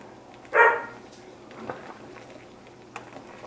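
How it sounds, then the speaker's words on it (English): A dog barks once, sharp and fairly close, in a home kitchen during cooking, followed by faint distant yips from another dog against quiet room noise. "my dog in the background had to chime in, along with the other dog."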